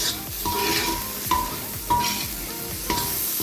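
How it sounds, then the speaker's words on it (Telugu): Chicken pieces with coriander and mint fry in a pan for biryani, a continuous sizzle broken by four rhythmic scraping stirs of a spatula against the pot, close and clear. "ఒకసారి ఫ్రై చేసుకుందామండి"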